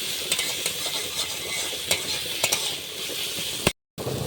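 Spinach, potato and crab curry in spices is stirred in a frying pan, giving a steady close sizzle with soft scraping taps of the spoon and a brief dropout near the end.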